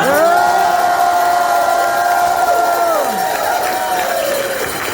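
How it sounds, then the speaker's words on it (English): A political get-out-the-vote rally crowd cheers and applauds loudly and steadily throughout, with shouting voices rising over the dense wash of clapping. "Take a moment to applaud again my incredible wife, Evelyn"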